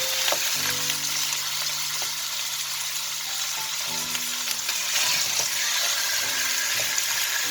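Chicken thighs fry over medium heat in a pan, browning on both sides, with a loud, continuous sizzle and spatter and a few faint clinks, and no voices.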